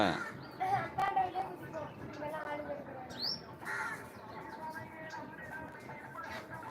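Several crow caws ring out over a busy outdoor background with people talking nearby, the calls harsh and spaced apart.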